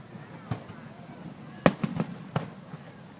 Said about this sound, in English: Pretty cool fireworks.